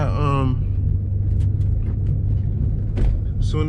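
A car with an MT82 manual transmission and a gear-shifting fault runs with its clutch worked hard, giving a steady, loud low engine rumble and drone, with a brief rising whine at the start and a few short clicks near the end.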